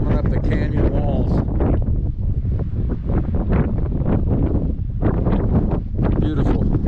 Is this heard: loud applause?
no